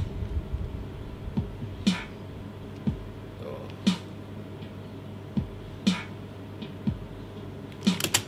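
A slow beat music loop plays quietly, with sparse, evenly spaced percussive hits about once a second over a soft background.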